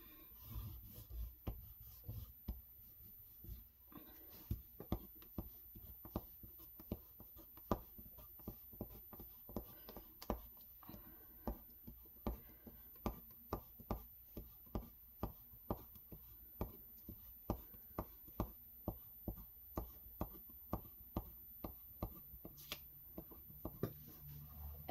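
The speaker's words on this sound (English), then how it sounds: "We just want to get our crayon marks all over our paper." A crayon scribbles across paper in quick, steady back-and-forth strokes. The scratchy rubs are soft and close, repeating rhythmically for the whole stretch.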